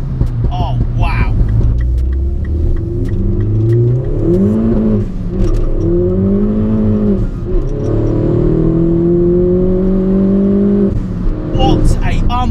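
A 300 bhp Mini John Cooper Works R56 engine pulling hard through the gears, loud and close from inside the cabin, with rising and falling revs and gear changes, under an excited voice.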